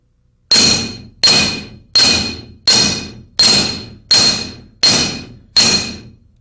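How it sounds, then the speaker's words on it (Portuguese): Eight evenly spaced hammer blows strike a metal strip on a block, working from the center toward the ends, each a sharp ringing clang that fades quickly, close and loud. "As marteladas são dadas do centro da tira para as extremidades"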